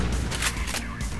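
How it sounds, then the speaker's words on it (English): A single heavy shotgun blast from Mirror's Edge, close and loud, with a booming report that fills the brief moment before fading. "Shotgun, I love it."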